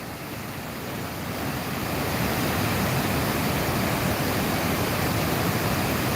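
The Great Falls in Paterson, New Jersey pour with a steady, broad roar of rushing water, constant and enveloping, with no voices over it.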